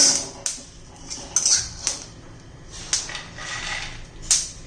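Roasted peanuts scooped out of a metal pan with a spoon give a series of sharp scraping clinks and clatters, close and moderately quiet, spaced irregularly.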